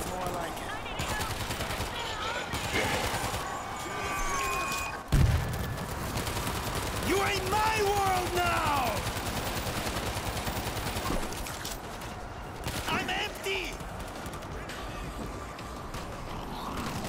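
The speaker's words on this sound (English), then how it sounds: "Keep shooting until nothing moves!" Sustained gunfire in the zombie shooter World War Z, a dense stream of shots over busy game sounds with a heavy boom near the start and brief voices calling out.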